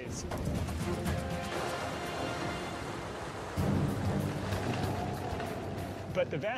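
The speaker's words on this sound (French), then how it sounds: "Il pleut très fort et l'eau s'engouffre dans les vallées arides." Heavy rain pours steadily in a dense, hissing wash, with low rumbling beneath and a sudden surge in intensity midway.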